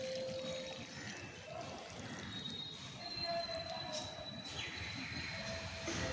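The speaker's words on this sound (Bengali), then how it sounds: "ভরপুর মাত্রায় আমি এটা জল দিয়ে দেবো" Water is poured generously onto a wilting potted Vinca plant, a steady close splashing gush that continues throughout over a noisy background hum.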